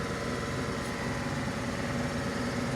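A Mercedes CLA 45 AMG engine running with a misfire on cylinder 4, giving a steady, close idle with a dense, uneven mechanical drone and no voices.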